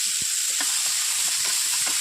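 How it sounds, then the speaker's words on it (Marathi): Chopped onion and tomatoes sauté in a pan with a steady, even sizzle and hiss, broken by faint scraping stir strokes. "यांना आपण थोडं कलर बदलपर्यंत परतवत करू"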